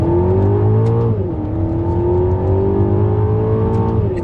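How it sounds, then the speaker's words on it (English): An Aston Martin DBX SUV accelerates hard, its engine note climbing steadily, dipping briefly at a gear change, then rising again. The sound is loud, close and continuous, with no talk over it. "how on earth the car of this size and mass accelerates like that?"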